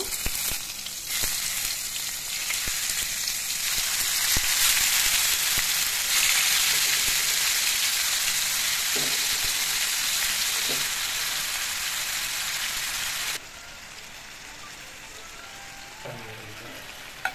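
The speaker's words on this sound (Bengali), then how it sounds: "আর এখন তেল গরম করে মাংসটা ছেড়ে দিব।" Beef sizzling and frying in hot oil, a loud continuous crackle that holds steady for most of the stretch before dropping to a softer sizzle near the end.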